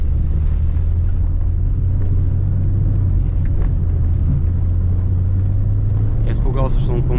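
A rally car, apparently a Subaru Forester or Range Rover, on a sprint stage, rumbles steadily with a loud low engine drone, heavy wind buffeting and talk over it, plus a brief rising whine near the end.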